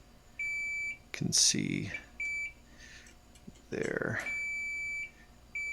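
A multimeter set to continuity gives steady high beeps while probing an iPhone 5S logic board with a faulty PMIC. Several sustained tones start and stop as contact is made, with someone talking between and over them.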